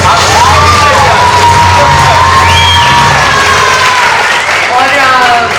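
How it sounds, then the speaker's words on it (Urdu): An audience at a women's chamber of commerce event breaks into loud, sustained applause with cheering and whoops, a dense wall of clapping that continues throughout. "پلیز ان کے لیے بھرپور تالیاں بجائیں."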